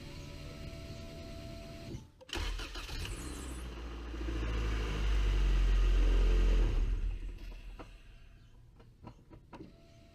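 A Honda car engine starts after a starter replacement: a brief cranking whir, then the engine catches and revs up loud and close, holds, and settles back to a quieter idle.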